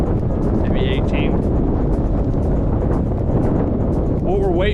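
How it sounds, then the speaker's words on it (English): Strong wind gusts at the Great Salt Lake roar steadily across the microphone for the whole stretch, a loud, unbroken rush with brief faint whistling tones on top. "So I'm starting to get the gust."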